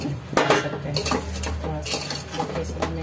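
Amla pickle being stirred together with oil in a metal vessel, a close run of clanking spoon strikes and wet scraping in an uneven rhythm over a low steady hum.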